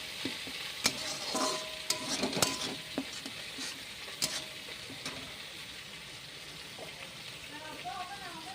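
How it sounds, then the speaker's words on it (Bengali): Spices sautéing in a pan with oil for a cauliflower, potato and tilapia curry, a close crackling sizzle punctuated by sharp scrapes and taps of a stirring utensil against the pan. "আর এখানে মশলাগুলো কষানো হয়ে যাচ্ছে"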